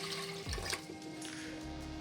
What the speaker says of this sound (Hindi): तकरीबन 3 गिलास हम पानी लेंगे